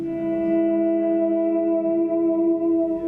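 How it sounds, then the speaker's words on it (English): A sustained guitar chord shimmers and swells under a wavering, modulated reverb, ringing steadily for about three seconds with no talking. "there's a modulated reverb in here"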